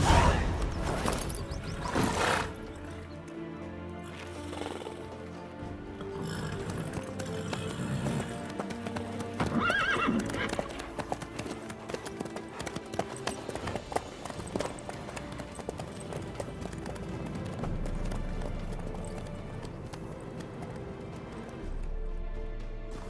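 Horse hooves clip-clop at a steady trotting rhythm in The Witcher 3 game world, carrying on beneath background game music and ambience, fairly close and moderately loud.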